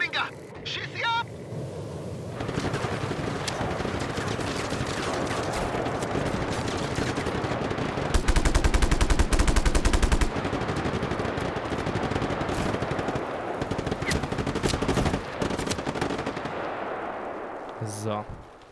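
Gunfire while shooting enemies in the video game Just Cause 3: dense, sustained automatic bursts and heavy blasts crackle loudly for most of the stretch, with a voice talking over the shooting.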